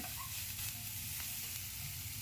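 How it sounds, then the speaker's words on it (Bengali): Grated paneer filling lightly frying in a pan, giving a steady, soft sizzle and hiss that holds at an even low level throughout with no voices. "এই রান্নাটা বেশিক্ষণ ভাজা হবে না, হালকা ভাজা ভাজা হবে।"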